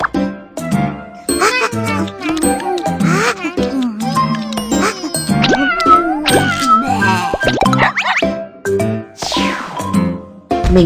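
Cartoon kitten meowing repeatedly in bright, close mews, mixed with jingling chimes and playful effects.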